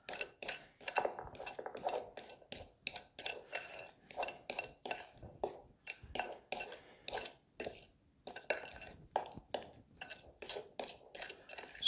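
Keto chaffle batter with sweetener is stirred in a bowl, the utensil clinking against the dish in quick, steady, rhythmic strokes, faint and close with no talking.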